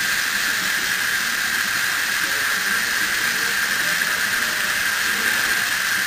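A steady, loud hiss runs unbroken throughout from an HHO cell, like steam or gas rushing out, with a faint bubbling of water underneath and no talking.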